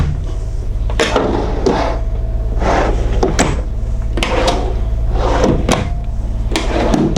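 Large storage drawers on a 2017 Newmar Ventana 3709 RV slide open and shut in a series of sharp, close knocks and rattles, about eight distinct bumps with no talking.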